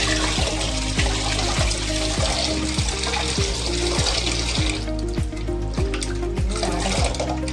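Water running steadily while soaked urad dal and peeled small onions are washed, a continuous splashing rush with rhythmic knocking clatter underneath, close and alone.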